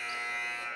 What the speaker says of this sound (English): Not sure what that buzzer was for.